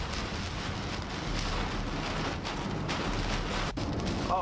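Heavy rain pours down steadily in a dense, loud, broadband hiss during a tornado, with occasional gusty swells and no voices.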